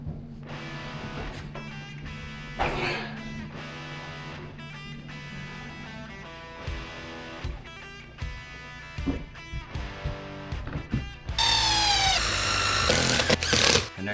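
A power drill drives self-tapping screws into a boat livewell vent in short bursts of whirring with pauses between, then a longer, louder final run of the motor near the end.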